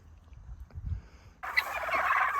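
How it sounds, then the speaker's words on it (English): Turkeys on a farm gobble once in a short, close burst that cuts in after a quiet stretch of low rumbling. "Time to move turkeys"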